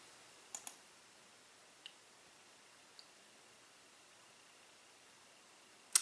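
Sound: mouse clicks in Cummins INSITE software

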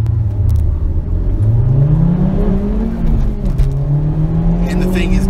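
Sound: Honda Civic Type R driving on the road

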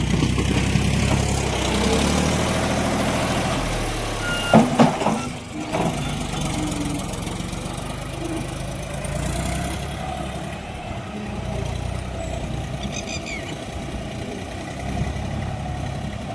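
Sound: loader tractor engine working on soft ground

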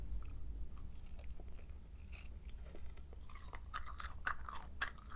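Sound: chewing a bite of tteokbokki

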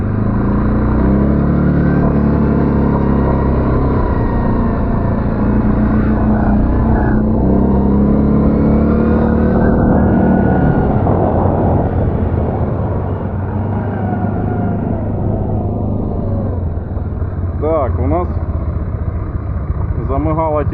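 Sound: Linhai 550 ATV quad bike engine driving

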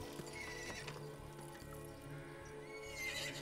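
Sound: horse neighing and hooves clip-clopping

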